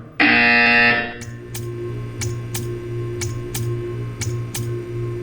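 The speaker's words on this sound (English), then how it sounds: "When you hear the buzzer, stare at the art." A loud, harsh buzzer in the video game Portal 2 blares for about a second, then a string of sharp ticking clicks repeats over a low steady hum.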